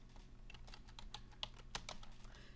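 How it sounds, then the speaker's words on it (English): Quiet, close keystrokes on a computer keyboard, a steady run of light clicks ending with an enter key press, with no voices. "and I'll click on the enter key right there"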